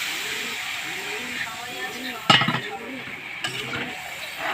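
Water poured into a pan of sizzling curry, a soft hissing sizzle with stirring, broken by a sudden sharp splash and burst of steam midway, then a smaller one after.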